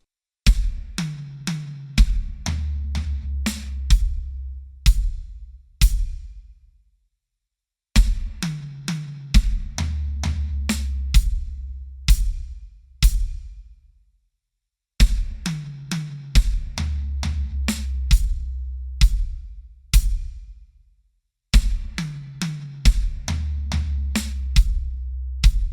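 A drum kit played slowly through a triplet fill pattern, hi-hat strokes paired with bass drum kicks, repeating in measured phrases with brief pauses between passes, close and alone with no talking.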